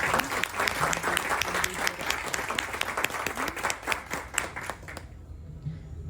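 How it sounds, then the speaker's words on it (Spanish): Lively audience applause at a book presentation, distinct sharp claps from a modest crowd rising to a steady patter before fading out abruptly near the end. "Un aplauso."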